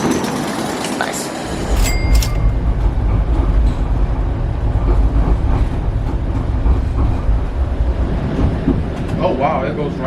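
Trains rolling along the tracks directly below a Toronto overpass, a loud, steady low rumble with rail clatter that swells after the first two seconds and holds for the rest, with a voice briefly speaking over it.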